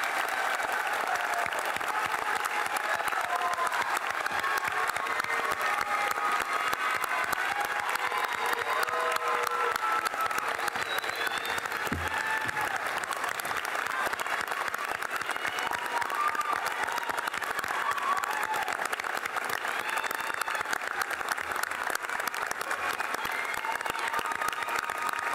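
Sustained, enthusiastic applause from a large crowd greets the 2019 graduating class at the Davis & Elkins College commencement ceremony, dense clapping running steadily throughout with scattered cheers.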